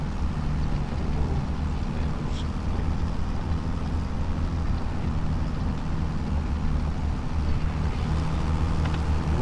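A tractor cultivating a field in Farming Simulator 25, its engine a loud, steady low drone that holds without a break.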